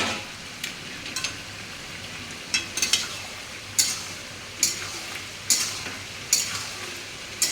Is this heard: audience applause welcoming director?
no